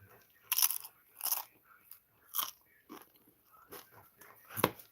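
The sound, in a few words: crunching cold Doritos chips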